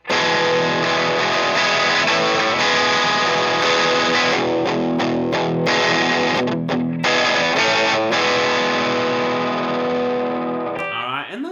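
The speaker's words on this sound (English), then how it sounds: "First, we are going to take a look at the overdrive." Electric guitar played through a Boss SD-1 overdrive pedal into an amp with an OR15 and V30 speaker pairing, loud crunchy sustained chords and riffs with brief choppy pauses, ending in a bending squeal.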